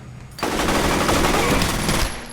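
Loud, sustained automatic gunfire in the video game F.E.A.R., a dense burst beginning abruptly and rattling continuously for about two seconds before cutting off.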